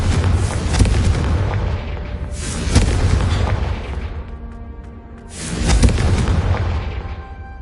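Explosive Confringo spell blasts in a Harry Potter video game: three loud, rumbling booms, each decaying over a couple of seconds, with no talking over them.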